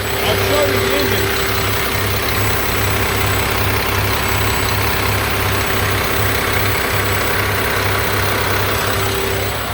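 A 2009 Mack MRU613 40-yard garbage truck with an Allison transmission idles close by, its diesel engine holding a loud, steady low throb with a faint regular pulse while a voice talks over it.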